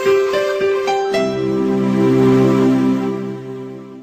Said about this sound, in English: but Windows 2003 Server sounds like this.